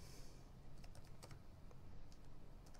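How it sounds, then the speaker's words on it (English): Rapid, light clicking of keys on a computer keyboard, a steady run of close taps with small bursts of faster strokes, set against quiet room noise and no talk. "you can go to Google and just type"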